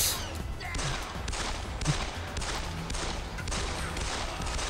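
Rapid gunfire crackles in the Deus Ex: The Fall video game, with repeated sharp bursts roughly every half second that sound moderately loud over a rough, noisy background. No one speaks.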